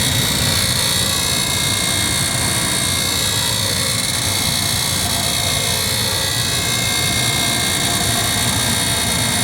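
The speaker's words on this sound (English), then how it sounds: "The fire you hear is from propane." A homemade propane torch burns hot to fire a Briggs steam engine, producing a loud, steady roaring rush of flame that stays constant and unbroken from start to finish, with no voices.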